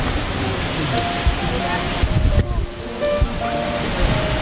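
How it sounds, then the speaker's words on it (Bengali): Staubbach waterfall in Lauterbrunnen, Switzerland, a dense continuous rush of falling water mixed with wind buffeting the microphone, loud and close, with brief thumps of handling noise. "এখান থেকে কিন্তু জলের স্রোতটা বোঝা যাচ্ছে"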